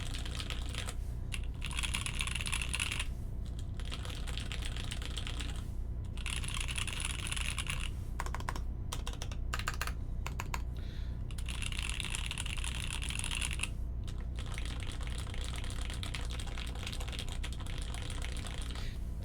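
Typing on a custom J-02 mechanical keyboard, a steady run of rapid clacking keystrokes with short pauses, close and continuous throughout without any voices.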